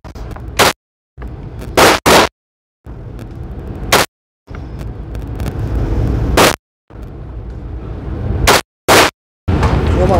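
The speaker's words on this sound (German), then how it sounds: "Die ersten drei Schüsse." Sharp, loud gunshots crack at a shooting range, about a dozen reports spaced irregularly, each cutting abruptly against a steady background hum between shots.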